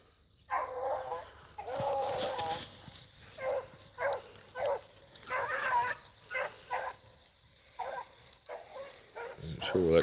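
Beagle hounds give tongue on a rabbit chase out in the brush, a run of repeated barks and bays in uneven bursts, moderately close, with people talking intermittently over the pack.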